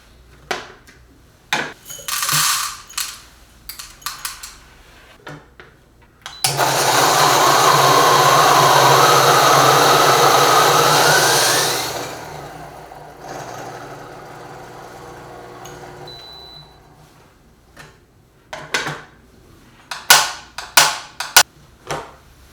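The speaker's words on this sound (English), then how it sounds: "we are gonna take a look at how finely this can grind" Fellow Ode Gen 2 coffee grinder with brew burrs grinding coffee beans, a loud steady whirring grind lasting about five seconds before winding down into a softer tail, framed by scattered clicks and handling knocks.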